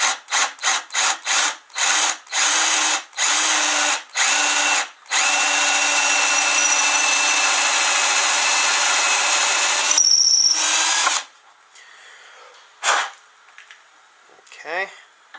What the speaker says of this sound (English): I'm going to just drill a hole